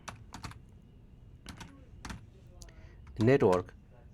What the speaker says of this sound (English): I type a network,